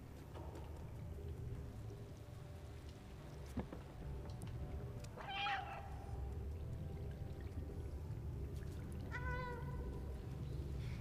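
A cat meows twice in the video game Stray, short bright calls several seconds apart over a low ambient hum with faint dripping and pouring water sounds in the background.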